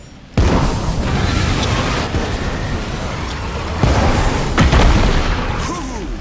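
Grenade explosions in the video game State of Decay 2 sound as heavy, loud booming blasts, one rolling into the next, with a fresh surge of rumbling detonations midway through.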